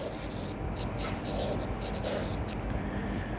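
Marker or chalk scratching across a board as a maths lecturer writes out a quadratic equation in completed square form, a steady run of short rubbing strokes, close and fairly quiet.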